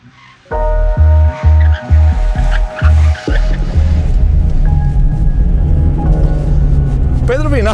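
Car tires squealing during a track day on a race circuit, a loud engine surging and cutting in short bursts before a sustained roar, with a voice talking over it.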